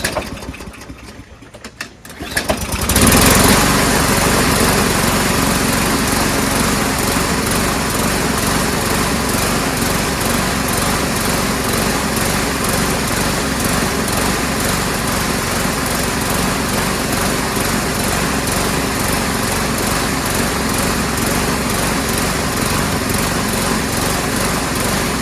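A small lawn mower engine with a manual primer bulb and a messy carburetor catches after a few quiet seconds and then runs loud, steady and buzzing close by, with no talk.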